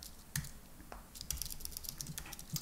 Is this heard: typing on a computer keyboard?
yes